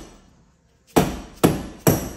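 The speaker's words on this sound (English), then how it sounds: "I'm gonna hit it with a hammer." Three sharp hammer blows land on a front wheel bearing assembly of a 2006 Porsche Cayman S 987, evenly spaced about half a second apart, close and loud after a quiet pause.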